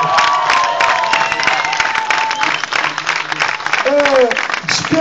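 A crowd at a live show applauding and cheering for drummer Ricardo Pires, a loud continuous burst of claps with voices and shouts mixed in and talk heard over it.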